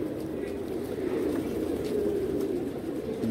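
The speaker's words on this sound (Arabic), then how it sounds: "وادي الحمام كله حط اهو" Pigeons settling on a loft as dusk falls, with a steady low cooing murmur through a constant bed of ambient noise; continuous and moderately loud, no clear speech on top.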